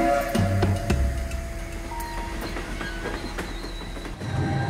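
Interior of a Rhaetian Railway passenger train under way, with a steady low rumble of running gear, faint wheel clatter and occasional clicks throughout.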